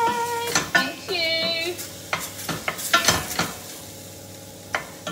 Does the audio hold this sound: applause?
no